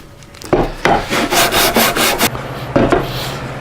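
Coarse-grit sandpaper rubbed back and forth over a wooden guitar carve top, a series of close, loud raspy strokes with brief pauses between passes.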